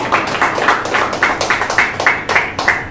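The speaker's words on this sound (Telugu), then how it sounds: "చప్పట్లు కొడదామా?" A church congregation claps together in a steady rhythmic beat, loud and close, the claps repeating evenly for a few seconds.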